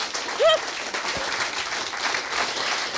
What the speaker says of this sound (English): can we have a big round of applause for our speakers?